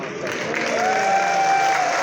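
An audience at a school gathering breaks into applause, a short, even burst of clapping with a brief whistle-like tone over it, steady and moderately loud.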